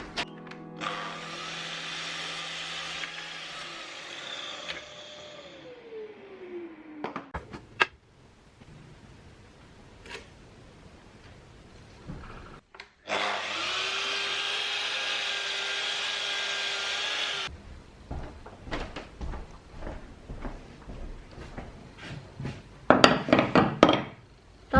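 A mitre saw cuts wooden pieces for a custom LEGO minifigure display in a workshop: loud bursts of blade whine through wood, with the motor spinning down after the cuts, plus a few knocks of handled boards and no talking.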